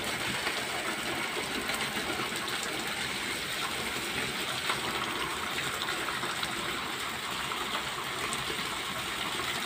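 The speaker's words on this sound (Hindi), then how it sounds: "इतनी तेज़ बारिश हो गई है।" Heavy rain pours steadily into a room and a drain, a dense, unbroken rushing and splashing wash of water at constant loudness, with no voices.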